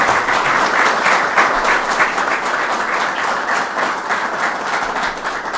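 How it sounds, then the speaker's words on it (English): Loud, sustained applause from an audience at a press event on fighting gun violence in Buffalo, steady clapping filling the whole span without breaks and with no talk over it. "I want to give you a special round of applause for all you do here."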